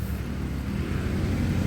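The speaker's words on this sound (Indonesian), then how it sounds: "Oke, kita hidupkan mesinnya." A Daihatsu Sigra R Deluxe car engine runs with a steady, low mechanical rumble close by, the hum staying even throughout with no voices.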